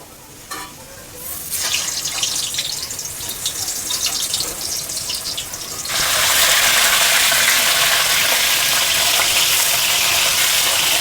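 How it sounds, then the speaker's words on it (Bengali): Potatoes rubbed with salt and turmeric fry in hot oil in a wok (kadai), a steady sizzling hiss that jumps louder and denser about halfway through, with no talking. "তো আমি আগে আলুগুলো লাল লাল করে ভেজে নিই।"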